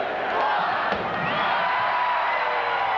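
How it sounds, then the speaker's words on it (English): A packed crowd at a 1978 Clemson versus South Carolina football game roars continuously through the closing seconds, a dense, steady wall of cheering with no break. "Let the crowd count it down."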